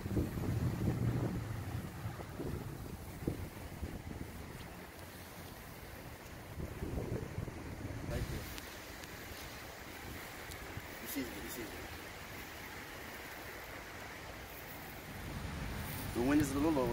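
Wind gusts buffet the microphone outdoors in Florida, a continuous rough low rumble with brief swells, occasionally joined by faint water or boat sounds.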